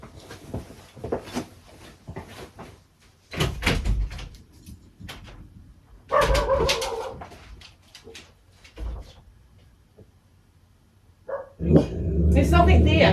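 Dog indoors in a home sewing room gives a few sharp barks between door and cupboard clunks, with someone talking nearby.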